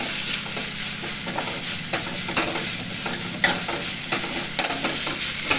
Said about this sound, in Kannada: ಇದು ನುಗ್ಗೆ ಸೊಪ್ಪು ಈ ಥರ ಫ್ರೈ ಮಾಡಿದೆ ರೀ.